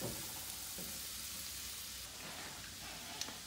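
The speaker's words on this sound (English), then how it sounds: "Turn that flame down some. Allow these onions to cook." Onions sizzling in a pan over a lowered flame, a dense, steady hiss with faint crackles, continuous and close, without any talk.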